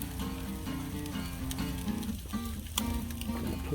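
Bacon grease sizzling steadily on a hot Blackstone griddle before hash browns go in, a dense continuous crackle with occasional sharper pops, fairly close and unbroken.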